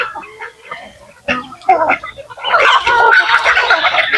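Native chickens and Texas chickens cluck and call while feeding, the bird sounds starting sparse and growing into a dense, fairly loud chorus of overlapping clucks in the second half.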